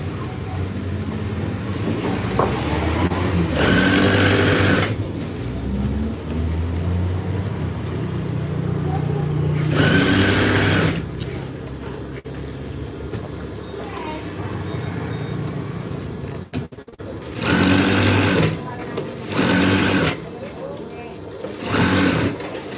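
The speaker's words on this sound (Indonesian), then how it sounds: "Kita jahit saja." A sewing machine stitches curtain fabric in loud, rapid bursts of several seconds each, separated by pauses filled with a person talking nearby.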